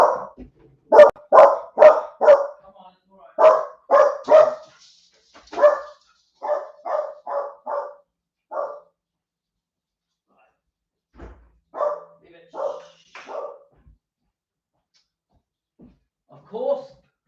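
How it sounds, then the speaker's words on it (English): Dogs barking indoors at home, a loud close run of repeated barks in quick bursts, then scattered single barks after a pause, with no talking over them. "Of course, the second I go live, the dogs bark."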